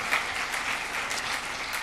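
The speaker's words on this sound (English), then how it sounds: "Round of applause for all of our panellists" A brief burst of dense applause rises from the audience for a panel on water and the city, a wash of many clapping hands with no voices on top.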